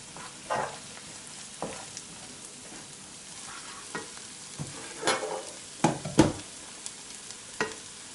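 Onion, spices and tomato paste fry gently in a pan, a soft continuous sizzle broken by several scraping, clattering stirs of a spoon that grow a little louder toward the end.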